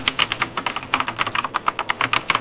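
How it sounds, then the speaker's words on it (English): An AI-generated rendition of very fast typing: rapid, uneven keyboard clatter with dense clicks and keystroke bursts close up, lasting a couple of seconds with no voices. "Very fast typing."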